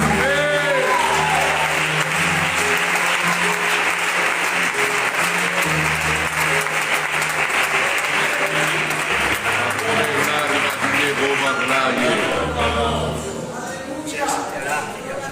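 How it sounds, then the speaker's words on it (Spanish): Sustained clapping from a church congregation, loud and steady for around fifteen seconds, with a voice speaking over it at times before it thins out near the end. "Un aplauso por el Señor"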